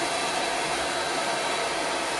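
Hair dryer blowing continuously while drying hair at the scalp, a loud, steady close-up whoosh of air with no pauses or speech.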